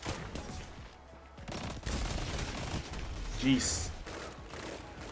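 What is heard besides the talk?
gunfire in Destiny 2 video game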